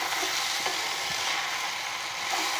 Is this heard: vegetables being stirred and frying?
yes